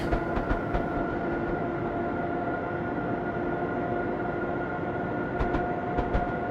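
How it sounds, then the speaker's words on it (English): A train in the video game Train Simulator 2015 picks up speed with a continuous heavy rumble and steady droning tones, while light rhythmic clicks of the wheels come through near the start and end. "Now the trains are going to speed up to that 70."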